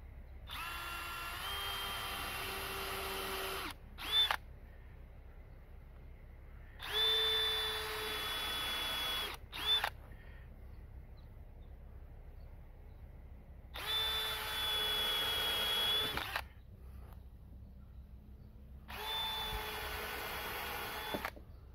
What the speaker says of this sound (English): Okay, so we'll pre-drill it.